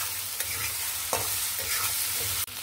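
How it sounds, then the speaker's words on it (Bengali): Potatoes with turmeric and green chilies being stirred and fried in a pan, with a steady close sizzle and repeated scraping of the spatula, including a sharp clatter near the end. "এটা দিয়ে আলুটাকে একটু সুন্দর করে নেড়ে ভেজে নিব।"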